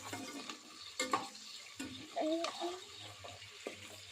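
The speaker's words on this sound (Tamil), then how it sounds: "நீல் வாக்கில் கட் பண்ண வெங்காயத்தை நல்லா போட்டுட்டு அதை நல்லா வதக்கணும்" Sliced onions sauté in a pan under a faint sizzle, with scattered utensil scrapes and knocks and a brief watery clatter, all quiet and close.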